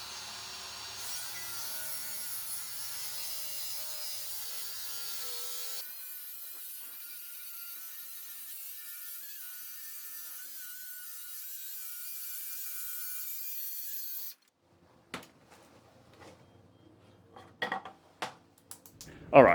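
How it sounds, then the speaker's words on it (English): A Kreg AccuCut XL track saw drives steadily through a full sheet of 19mm plywood, a long, continuous whirring cut that labors slightly and ends abruptly, followed by faint handling clatter. "I just did a full sheet of 19mm, so that's a true 3/4 inch plywood. That was very heavy going on the saw, quite tough."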